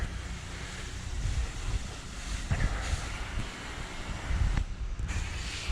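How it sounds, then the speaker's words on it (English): Pressure washer spray rinsing down vegetation outdoors, heard as a steady, loud broadband hiss of water with slight surges and rough gusty texture throughout. "he's just doing a little rinse down"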